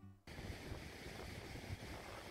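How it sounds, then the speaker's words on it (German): A waterfall in a Lapland national park roars as a steady, broadband rush of falling water, loud and continuous after a brief quieter start, with some wind buffeting the microphone. "Das ist also der Wasserfall"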